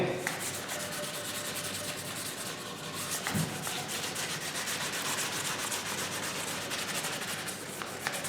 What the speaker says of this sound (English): I'm not sanding it that much. Really, I'm just scuffing it back.